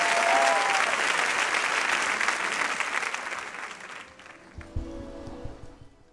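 Church congregation applauding loudly and steadily, a dense crowd clapping that fades out after about four seconds, leaving a few scattered claps and some low room noise.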